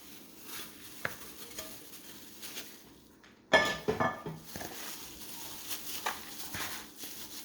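Raw meat filling for homemade lumpia egg rolls being mixed by hand in a bowl, a soft wet squelching and patting that swells midway into a louder burst of clattering, slapping movement, then settles into quieter stirring.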